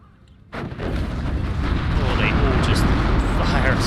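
Tank and artillery fire in the Cold War strategy game WARNO: after a brief quiet start, a sudden loud burst gives way to a continuous dense rumble of booms and explosions that holds steady to the end.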